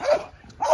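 A Malinois puppy during bite training gives two short, close vocal bursts, a yip or bark at the start and another near the end, with a quieter gap between them.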